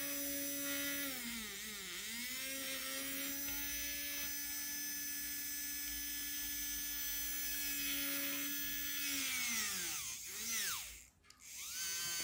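A small DC motor fitted with extra magnets, powered by a 3.7 to 4.2 volt battery, runs with a steady high whine that dips and rises in pitch as it slows and speeds up, then cuts out near the end.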